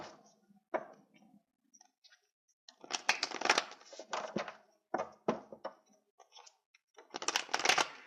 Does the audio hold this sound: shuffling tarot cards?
yes